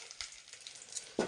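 Chillies and curry leaves frying in a pan for a Tamil vatha kuzhambu, with a soft steady sizzle, faint scrapes of stirring, and a louder clatter at the end.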